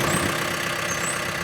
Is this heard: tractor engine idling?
yes